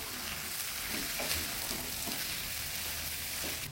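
Steady crackling sizzle of spice paste frying in hot oil for beef lung rendang, close and continuous, with a few soft stirring scrapes underneath.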